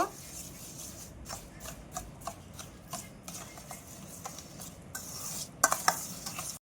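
Egg and flour batter seasoned with spices and sugar being beaten by hand in a bowl, a steady run of quick scraping, whisking strokes close up with brief louder clinks near the end; no talking.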